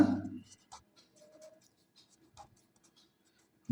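Writing by hand: a few faint, scattered pen scratches and taps on paper, sparse and quiet in a near-silent room.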